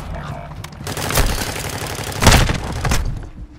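Gunfire rattles through a Call of Duty match in dense, loud bursts, with heavier blasts mixed in and a big peak partway through, as game voices call out over the shooting.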